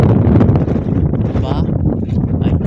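Strong wind buffets the microphone outdoors in a steady, loud, rumbling roar, with a voice speaking faintly underneath.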